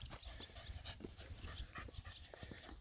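A dog pants and snuffles faintly nearby at a picnic spot, with soft breathy sounds and small whimpers, no clear barking and no talking.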